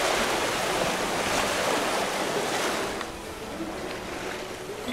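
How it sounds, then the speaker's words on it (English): Steady wind rushes over open water while a sailboat is underway, a broad continuous hiss with a slight easing partway through, close and fairly loud, with no voices. "The wind has come back up a bit."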